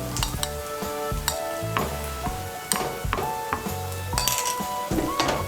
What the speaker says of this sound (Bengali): কাঁচা লঙ্কা কুচিটাকেও মিশিয়ে নেব।